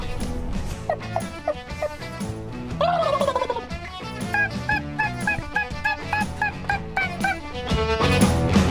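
Wild turkeys gobbling near their roost, several rapid warbling gobbles overlapping loudly at close to middle distance, repeated through the stretch with bird calls layered over a rough background and no speech.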